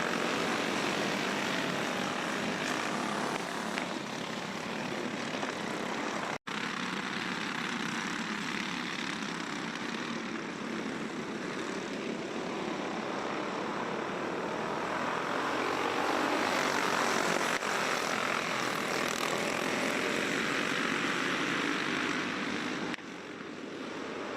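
Go-karts in a senior medium heat race at Forks Karting Speedway, a steady loud engine drone holding for the whole stretch with small swells as karts pass, no talk over it.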